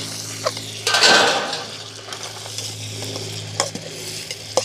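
Food sauteing in a pot during a Mother's Day cook-up, with a burst of stirring and sizzling near the start, then a soft steady simmer marked by occasional light clinks of a utensil against the pot.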